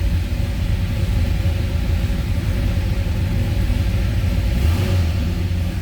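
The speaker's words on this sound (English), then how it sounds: "Nothing crazy over the top as far as exhaust sound, but nice little rumble." A deep, burbling 426 Hemi V8 idle from a 1966 Dodge Charger rumbles steadily and close, with a throaty low exhaust note and no talking.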